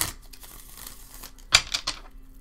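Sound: shuffling a deck of tarot cards

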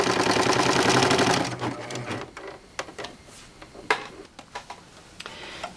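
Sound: serger sewing machine stitching a bath mat

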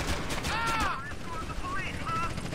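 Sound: gunfire in the video game Grand Theft Auto: San Andreas

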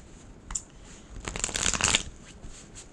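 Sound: shuffling tarot cards

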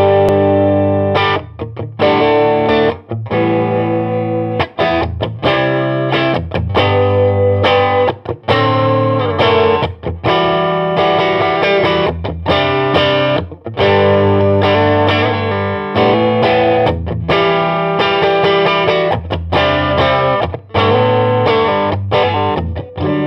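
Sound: electric guitar through Ibanez Tube Screamer Mini overdrive pedal

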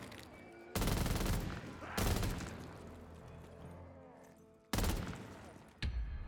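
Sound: MG34 machine gun firing in The Walking Dead zombies video game

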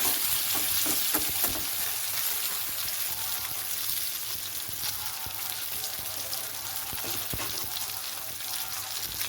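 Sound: fried eggplants and onions sizzling in a frying pan

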